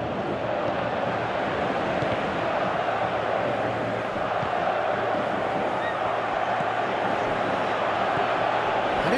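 Stadium crowd in the football game PES 2018, a steady broad roar of many voices with a low murmur underneath, continuous and loud without distinct cheers.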